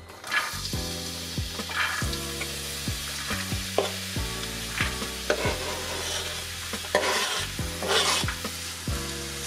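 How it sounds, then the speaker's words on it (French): Two finely sliced onions fry gently in a little oil in a pan, a soft steady sizzle broken by repeated scraping stirs of a utensil against the pan, close and without talk. "Donc je fais rissoler ça doucement quelques minutes, histoire de les faire suer."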